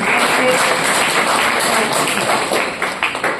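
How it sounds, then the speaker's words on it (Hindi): An audience at a religious discourse gathering in Itarsi applauds in honour of the teachers: dense, loud, sustained clapping that thins into scattered claps near the end. "हमारे टीचरों के सम्मान में एक बार तालियां बजाएं"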